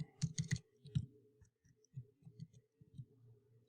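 Fingers tap out a password on a computer keyboard, quiet close clicks in short irregular bursts with brief pauses between them.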